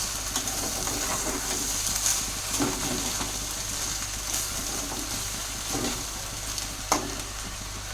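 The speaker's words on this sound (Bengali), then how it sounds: "বাটিটা ধুয়ে মশলার জলটা আমি দিয়ে দিলাম।" Spiced water for a turmeric-free khichuri meets a hot pot, giving a steady close sizzle and hiss with occasional stirring scrapes and small clinks throughout, no voices.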